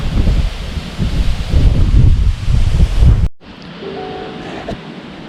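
Strong wind gusts roar and buffet the microphone at a prairie campsite at Blue Mounds State Park in Minnesota, loud and rushing for about three seconds, then cutting to a quieter steady breeze with faint background sounds.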